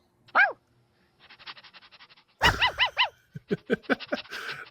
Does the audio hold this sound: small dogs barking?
yes